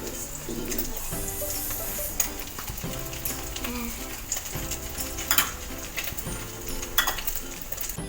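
Chili and corned beef frying in a pan, a steady close sizzle with spatula stirring and scraping against the pan, occasional metallic clinks rising over the constant hiss.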